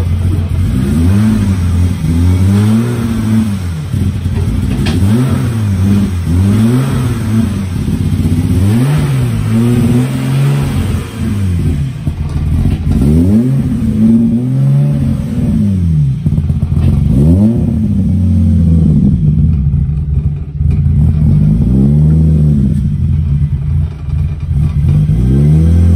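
A car engine with a slightly unstable idle runs loudly close by, with repeated revs rising and falling in waves between rougher idling stretches.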